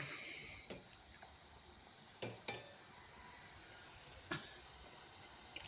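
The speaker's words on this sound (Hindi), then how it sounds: "अब इसको भूनेंगे।" Tomato masala for aloo gosht curry is sautéed in a pot, giving a faint, steady sizzle with a few scattered spoon scrapes and clinks; no voices.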